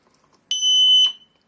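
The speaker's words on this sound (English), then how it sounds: "you hear that little beep. That means that it is armed." A single high electronic beep from a Royal Enfield Interceptor 650 motorcycle alarm arming, clear and sharp, lasting about half a second in otherwise quiet surroundings.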